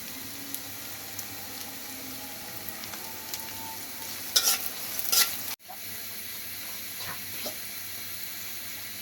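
Onions frying in a home kitchen pan, a steady sizzle with soft stirring scrapes and a brief louder burst of spatula clatter midway, no voices.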